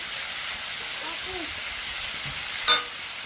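Pumpkin stems and rohu fish curry sauté in a pan with a steady, close sizzling hiss. Faint voices sit underneath, and a brief metallic clink comes near the end.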